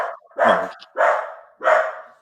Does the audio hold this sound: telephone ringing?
no